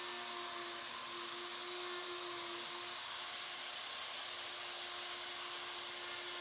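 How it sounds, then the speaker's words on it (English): A router cuts wood inside a jig while building a storage bench: a steady, high-pitched whine holds throughout, continuous and fairly faint, with no talking. "usually the router kind of blows the sawdust out of there"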